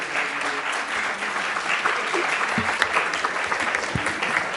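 An audience at an evening event in Venice gives sustained applause, a dense and even wash of clapping that holds steady throughout.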